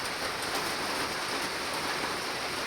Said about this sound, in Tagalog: napakalakas ang ulan dito ngayon